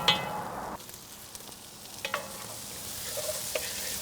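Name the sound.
minced garlic and fire roasted peppers sautéing on Kamado Joe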